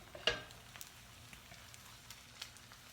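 Eggs frying in a pan make a faint, soft sizzle with scattered crackles and a sharper utensil clink near the start, heard on its own at low volume.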